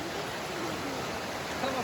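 A Carpathian mountain river rushing in flood makes a dense, steady broadband roar throughout, close and even in level, with no clear talk above it.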